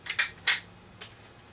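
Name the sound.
FN FAL rifle bolt being locked open by hand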